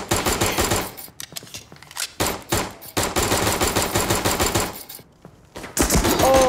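Rapid bursts of shotgun and gunfire in America's Army: Proving Grounds, loud close blasts in dense clusters with short gaps, a voice briefly audible near the end.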